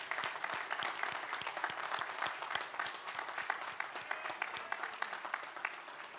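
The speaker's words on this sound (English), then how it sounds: "let's give these amazing people in your lives a heartfelt round of applause" A standing graduation audience at a university business and engineering commencement applauds, a sustained, even roar of many hands clapping with sharp individual claps standing out, continuing steadily throughout.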